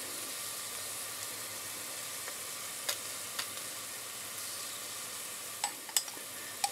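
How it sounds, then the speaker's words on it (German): Onions softening in a pan, with tomato paste going in, for a tomato vegetable soup with pasta: a steady broadband sizzle throughout, with a few sharp clicks and spatters near the end. No one talks. "Jetzt kommt unser Tomatenmark dazu."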